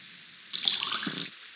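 In a video game, water is collected with a brief splashing, trickling burst that rises suddenly, lasts under a second, then stops against a quiet background.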